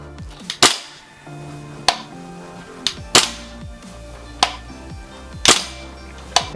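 A VFC VR16 URG-I carbine, a gas blowback airsoft rifle, fires several single shots at uneven intervals, each a sharp loud crack with a mechanical clack of the moving bolt, close up and with no talking.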